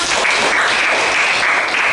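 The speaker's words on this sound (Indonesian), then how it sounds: "tepuk tangan dong untuk kita semua" A class of students applauds together, a brief burst of dense, even clapping at close range with no talk over it.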